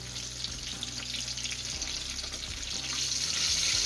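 Avşa Island eggplant slices fry in a pan of oil as they are flipped, giving a steady, close hiss of sizzling with a low hum beneath and no talking.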